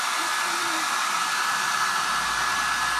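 A hair dryer blows close and loud without a break as it dries a painted polyester frame.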